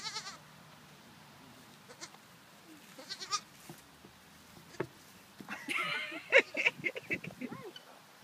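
Baby goats bleat on a farm, with several short cries near and far that grow busier toward the end, mixed with faint background voices and rustling.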